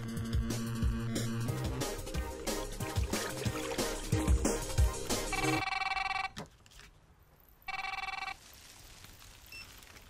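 A telephone rings in a tense film scene, opening under loud dramatic music and then, after the music cuts off, sounding as a few clear, repeated electronic ring bursts separated by short quiet gaps.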